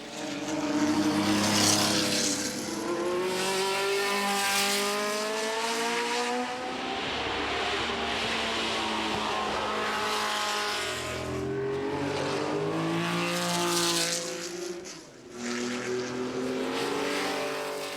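Vintage race cars, including a Porsche RSR, roar past at the Le Mans Classic 2004, a loud continuous engine drone with pitch sweeps as cars accelerate and pass, rising and falling in waves.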